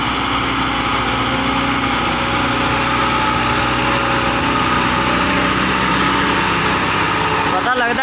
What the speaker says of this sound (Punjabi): ਬੜੀ ਪਿਆਰੀ ਆਵਾਜ਼ ਹੈ ਟਰੈਕਟਰ ਦੀ ਮਾਸ਼ਾਅੱਲਾ